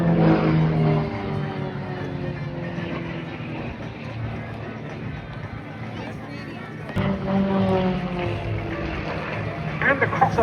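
Royal Jordanian Falcons aerobatic aircraft flying the Hashemite Break crossover at an air show, a sustained loud engine drone with shifting pitch that swells again near the end, under continuous commentary.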